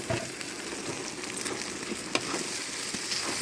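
Potatoes frying together with meat for kuyrdak, cooked over an outdoor hearth, giving a steady broadband sizzle with occasional crackles and stirring clicks, fairly close and continuous, with no talking.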